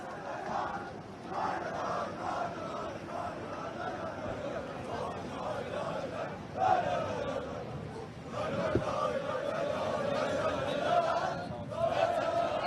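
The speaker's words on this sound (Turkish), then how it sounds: "Fred aracıyla çıkarken tezahüratlara devam ediyor taraftarlarımız" Fenerbahçe football supporters keep up a steady, loud chant and crowd roar outdoors as new transfer Fred drives away, with a few sharper surges of shouting rising above the continuous noise.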